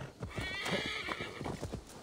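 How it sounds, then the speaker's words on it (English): A horse in the video game Assassin's Creed Valhalla gallops with steady rhythmic hoofbeats and lets out a loud whinny partway through, close and continuous over the whole stretch. "I'm going to call my new Draugr horse."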